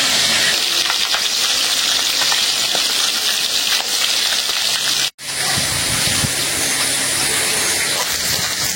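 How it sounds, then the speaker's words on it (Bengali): Pieces of a large rohu fish fry in a little oil, a loud, steady close-up sizzle and hiss that cuts out for an instant midway, then resumes with some soft stirring clatter. "মাছ মোটামুটি ভাবে ভাইজা নিলাম ভালো করে, একেবারে সেই লেভেলের ভাজা দিচ্ছি।"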